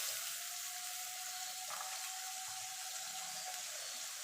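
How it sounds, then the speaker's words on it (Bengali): Ginger, garlic and green chili paste fries in a pan for a katla fish dish, a soft even sizzle with a faint steady tone underneath, no talking. "এবার মশলাটা মিনিটখানি কষিয়ে নেব, যতক্ষণ মশলা থেকে কাঁচা গন্ধ না চলে যাচ্ছে।"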